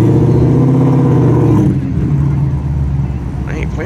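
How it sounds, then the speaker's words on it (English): Car with a center-exit exhaust idling and revving at a Cars and Coffee show in Malibu, giving a loud, crisp, throaty note that drops to a lower rumble partway through, with people talking nearby. "that sounds really good, having exhaust in the center"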